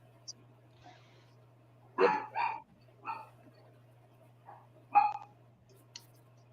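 A pet dog indoors lets out a few short barks, a couple of them close together, then one more a few seconds later, fairly faint and set against a steady low electrical hum.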